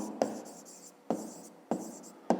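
A pen writes an answer on paper in short strokes, with four distinct scratchy bursts, each a sharp tap followed by a brief fading scrape, close and quiet with no talking.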